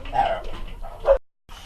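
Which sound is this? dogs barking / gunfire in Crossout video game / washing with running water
dogs barking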